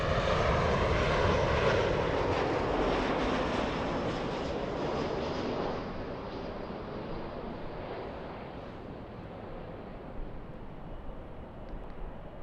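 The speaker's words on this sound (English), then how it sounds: "The Southwest Airlines flying in from Houston. There you go. Southwest 1685 from Houston, Texas. That's a 737 MAX 8." A Southwest Airlines Boeing 737 MAX 8 airliner arriving from Houston roars loudly and steadily overhead on approach, its broad jet rumble easing gradually as it passes.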